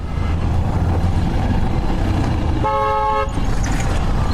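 One loud, steady car horn blast lasting under a second, sounding over constant engine and road noise.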